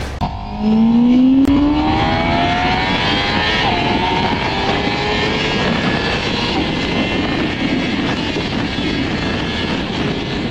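Honda CBR1000RR-R Fireblade SP superbike ridden hard, the engine rising through the revs in a loud rising howl, then settling into a sustained high-pitched drone with wind rush, no talk.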